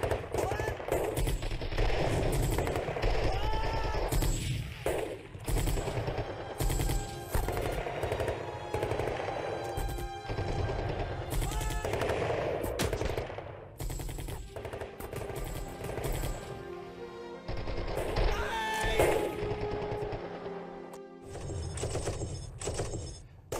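Light machine gun fire in a Dien Bien Phu battle scene, loud sustained bursts and rattling gunfire dense throughout, with scattered shouting and battle noise mixed in.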